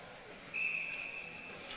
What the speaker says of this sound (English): And the whistle blows